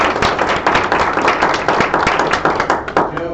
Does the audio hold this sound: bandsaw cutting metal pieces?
no